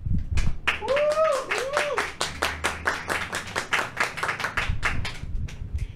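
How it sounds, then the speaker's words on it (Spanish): A small group in a studio gives a guest a send-off, clapping in a brisk, sparse rhythm of distinct hand claps, close and moderately loud, with a voice briefly heard alongside. "la despedimos con un fuerte aplauso"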